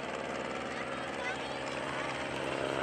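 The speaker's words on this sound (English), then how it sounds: "The Aeronca L-16A that just went by there, Rich Wallen at the controls" An Aeronca L-16A light airplane passes at an airshow with a steady, fairly faint propeller-engine drone and a regular low pulsing beat, heard at a distance.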